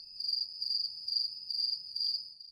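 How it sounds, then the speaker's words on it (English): Crickets chirp in steady pulsing bursts, a thin high trill repeating roughly every half second, fairly faint and alone against a quiet background. "Crickets."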